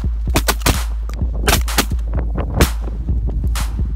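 Shotgun blasts during a duck hunt on open water, a series of sharp, loud reports at irregular intervals over steady background rumble, with no talking.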